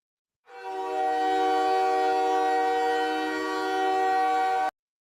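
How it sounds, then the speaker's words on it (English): Montreal hockey goal horn, a train-style air horn, played back as one loud sustained chord-like blast lasting about four seconds with no talk. "That's the Montreal goal horn."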